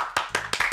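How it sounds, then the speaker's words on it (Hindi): Four sharp, evenly spaced claps ring out close by on a comedy talk show stage, each a crisp burst with a brief tail. "जोरदार तालियां होती"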